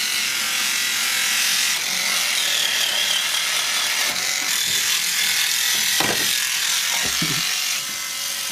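Steady bristly scrubbing hiss runs throughout, a continuous brushing of a hard surface with a few soft knocks and shifts near the end.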